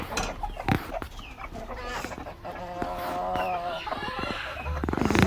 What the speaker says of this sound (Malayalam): ബ്ലാക്ക് ആൻഡ് വൈറ്റ് എന്ന് പറഞ്ഞ കോഴികളാണ്